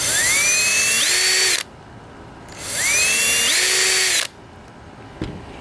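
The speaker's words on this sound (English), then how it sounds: "Oh, sorry, I forgot to drill the hole. So you're gonna drill the hole." A power drill drilling a hole in a carburetor whirs loudly in two bursts, its pitch climbing as it spins up, with a short pause between and a small clunk after.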